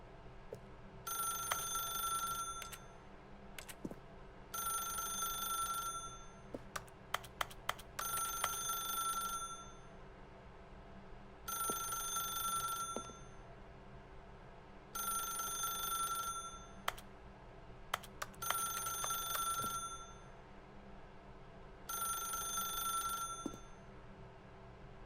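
A telephone rings in The Stanley Parable: Ultra Deluxe, a bright bell that repeats in regular bursts of about a second with short pauses between. It sounds faint and somewhat distant, with a few small clicks and no voices.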